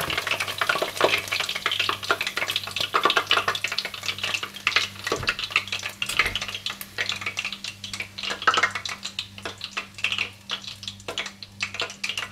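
Chicken pieces frying in a pan, a steady crackling sizzle with scraping and stirring clatter throughout, while a low electric hum pulses underneath.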